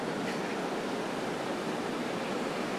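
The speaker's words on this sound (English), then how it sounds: "The waves was firing all the time." Ocean surf waves rolling at Shizunami Surf Stadium in Japan, a steady, full wash of breaking water that roars continuously without pause and with no voices over it.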